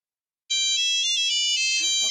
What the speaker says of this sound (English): Let's answer the feedback phone.